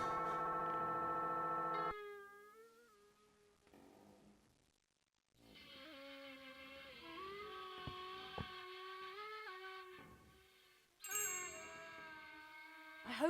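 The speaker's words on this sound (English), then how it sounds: "Let's see what happens when I hold this thing against the bell." A bell rings in the adventure game The Night of the Rabbit, sustained metallic tones ringing out loudly and then fading, followed by further bright chimes and a renewed burst of ringing toward the end.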